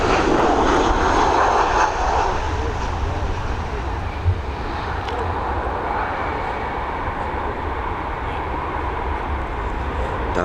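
An airliner about eleven years old, arriving at Dublin Airport after a short flight from Liverpool, comes in to land with a loud, sustained engine roar that stays steady and gradually eases.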